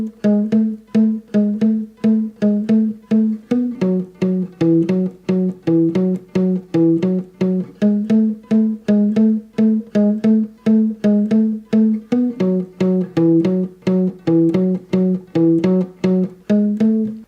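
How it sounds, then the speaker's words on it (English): Guitar plays the intro and verse melody riff of a song, a tight, evenly pulsing line of short plucked notes repeating in a steady pattern, close and clear, with no talking. "let's kick things off with the intro and verse melody, which should sound like this"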